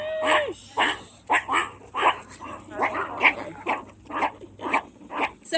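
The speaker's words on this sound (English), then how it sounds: "they do like a barking noise like that when they feel threatened." Meerkats at a wildlife park during feeding give a rapid run of sharp, yappy barks in close succession, loud and near, with quiet chatter from people in the background.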